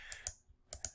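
Four sharp keystrokes on a computer keyboard click in two quick pairs separated by a brief pause, close and fairly faint, with no talking.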